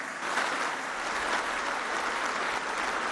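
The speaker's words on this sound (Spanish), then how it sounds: "Un aplauso a todas y todos los servidores de la nación." A crowd at an outdoor public event in Chimalhuacán, State of Mexico, applauds the nation's public servants with steady, dense clapping heard from a distance, no voices.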